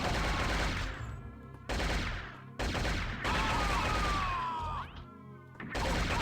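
Weapon fire in Shogo: Mobile Armor Division, heavy loud blasts arriving in several sustained blocks separated by brief gaps, with a falling whistle-like tone in the middle.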